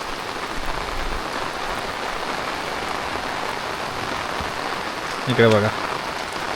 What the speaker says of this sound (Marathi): एकदम जोरदार पाऊस पडतोय